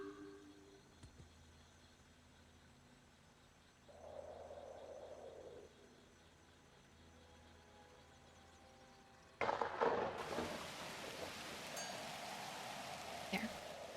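Rain in The Universim builds from a faint patter to a sudden, much louder downpour hiss, with a brief swelling rumble in the middle and sharper crackles after the surge.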